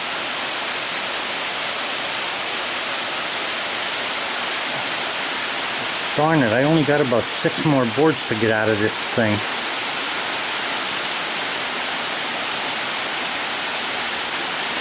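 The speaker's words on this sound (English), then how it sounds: "Oh boy, it's really pouring now." Heavy rain pours steadily in a dense, loud hiss through the whole stretch while someone talks briefly in the middle.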